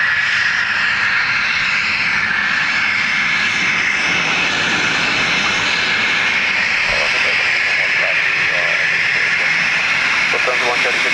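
An airliner on approach to land at Dublin Airport produces a loud, continuous engine roar with a broad whining hiss that holds steady throughout, fairly close, with faint radio-style voices beneath it.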